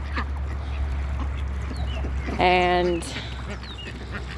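Ducks kept for eggs give a single loud, clear quack burst in the middle, over a steady low hum, with a person talking nearby.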